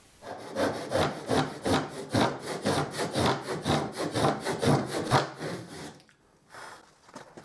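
Hand saw cutting wooden parts for a wooden star, steady rhythmic back-and-forth strokes about twice per second, close and loud, stopping near the end with a few softer handling sounds.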